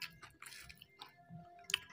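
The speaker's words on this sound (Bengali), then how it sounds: "বেগুন পোড়াটা অনেকদিন পর খাচ্ছি" Soft, close chewing of roasted eggplant mash eaten with flatbread, with quiet wet mouth sounds and small bites over a short stretch, no talking.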